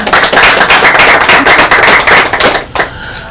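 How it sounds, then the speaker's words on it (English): Round of applause from an event audience in Freeport, The Bahamas, loud dense clapping that fills the room for nearly three seconds, then trails off quickly into quiet. "I want you to give them a round of applause"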